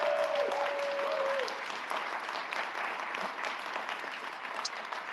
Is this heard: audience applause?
yes